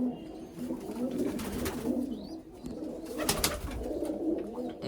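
Pigeons coo softly and repeatedly in low, throaty murmurs, close by, with a few faint clicks and rustles in between.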